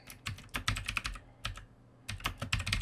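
Typing on a computer keyboard in short bursts of key clicks with a brief pause in the middle, close and fairly quiet.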